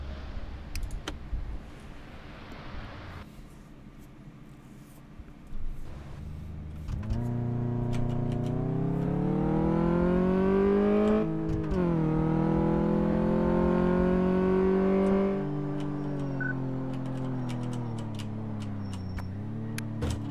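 A car in Car Mechanic Simulator 2014 accelerates through a drive test, its simulated engine revving up through rising gear pitches, dropping briefly at a shift, then holding a steady drone, preceded by keyboard clicks and quieter idle.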